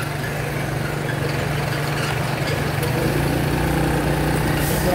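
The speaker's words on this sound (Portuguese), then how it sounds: "Muito movimento, muita moto." Steady engine drone of busy street traffic with many motorcycles on Rua Santos Dumont in central Itamaraju, Bahia, a continuous close mechanical rumble and idling hum with no pauses.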